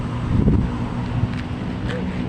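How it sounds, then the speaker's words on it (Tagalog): Constant rough rumble of strong wind buffeting the microphone, loud and unbroken, with faint motor-like drone underneath. "Lakas po ng hangin"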